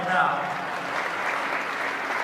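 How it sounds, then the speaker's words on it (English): Audience applause greets a self-development speaker coming up onto a stage, a dense steady clapping that swells briefly at the start then holds evenly. "give him a round of applause"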